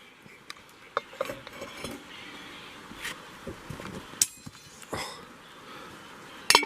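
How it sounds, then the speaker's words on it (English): A metal lid being set back onto a camp stew pot outdoors beside a river, with faint scattered clinks and scrapes of metal against metal and a final louder clatter at the end. "I'm gonna put the lid back on that thing"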